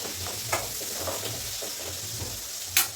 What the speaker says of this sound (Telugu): మంచిగా ఫ్రై చేసుకుంటున్నా